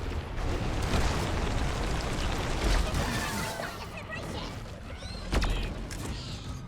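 Exploder creatures blowing up in Deep Rock Galactic, heard as dense rumbling booms and crackling bursts within chaotic game noise, with a sharper pop near the end.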